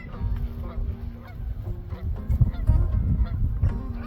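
Canada geese honk repeatedly on an eastern Montana hunt, a flock of overlapping nasal calls, fairly close, with choppy rustling and low noise beneath.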